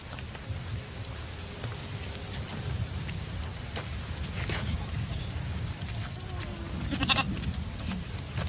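A goat bleats once, a short wavering call heard toward the end over steady rain pattering on a surface, with faint scattered drips throughout.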